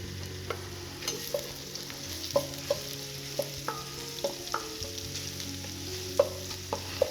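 Shallots sauté gently in a pan, with a soft continuous sizzle broken by regular scraping taps of a utensil as they are stirred, close and clear with no talking.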